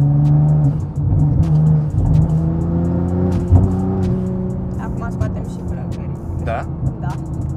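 A Nissan GT-R tuned to 750 horsepower revs its engine, a loud mid-pitched drone that swells and falls, with someone talking over the noise near the start.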